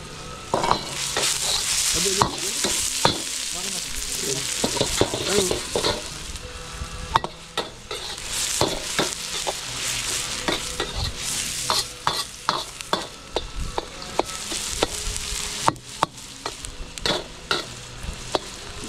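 Garlic, onion and ginger sizzle steadily in a hot pan, close and loud, with a spatula stirring and scraping in sharp, irregular clicks throughout and no talking.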